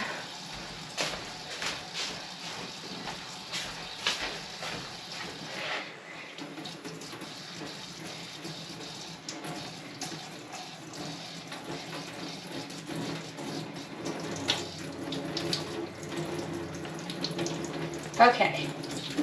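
A tap runs steadily while a cut hand is washed under it, a continuous moderate water hiss with faint talk mixed in.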